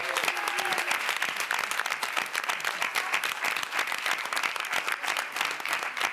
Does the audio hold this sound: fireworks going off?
no